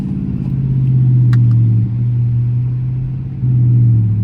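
A Dodge Charger R/T's engine drones steadily while driving in the rain, a loud, deep, continuous rumble with slight rises and dips in pitch as the car cruises.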